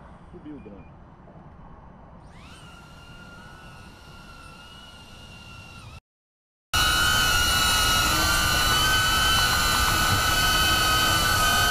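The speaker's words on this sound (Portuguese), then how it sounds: "e vamos subir o drone." DJI Avata FPV drone motors spin up at takeoff, a steady high whine that rises and holds at a constant pitch, then grows much louder and closer after a short dropout, sustained outdoors.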